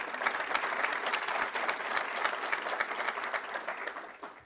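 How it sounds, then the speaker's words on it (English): Applause at a New York governor's legislation announcement on children's mental health, a full, even crowd clapping continuously for several seconds at moderate distance, fading at the end. "Let's give her a round of applause as well"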